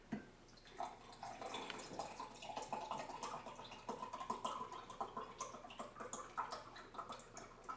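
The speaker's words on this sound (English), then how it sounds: "pour in the bubble tea" Homemade bubble tea is poured into a mug, a soft continuous splashing and trickling of liquid with small irregular clicks and drips, close and quiet, with no talking.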